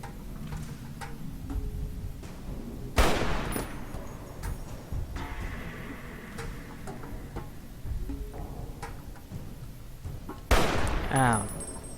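Fallout: New Vegas gunfire with two loud, close shots and their ringing echoes, separated by quieter game sounds and faint distant cracks, with a voice talking in places.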